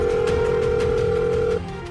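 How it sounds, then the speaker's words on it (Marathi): A telephone line plays a steady electronic call tone, with no connection made. The single held pitch lasts about a second and a half, then cuts off, followed by a brief faint blip. "फोनच लागत नाहीये."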